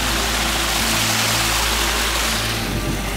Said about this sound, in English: So now we're at this waterfall.